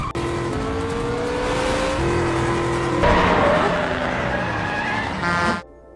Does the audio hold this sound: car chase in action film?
yes